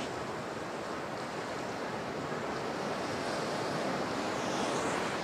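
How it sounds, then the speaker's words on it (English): Sea waves on a beach produce a constant broad wash of surf with soft wind buffeting, steady and moderately loud, with no voices over it. "just listening to the sound of the sea"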